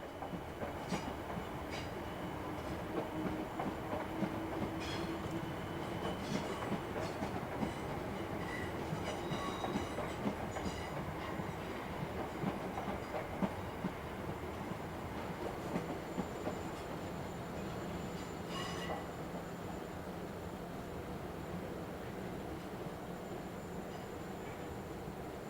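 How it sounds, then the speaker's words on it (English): Class 455 electric trains roll through the older part of London Waterloo station, a long continuous rumble with rhythmic clickety-clack of wheels over rail joints and occasional faint squeals, steady and fairly close. "I returned back to Waterloo for a few shots of the 455s in the older parts of the station"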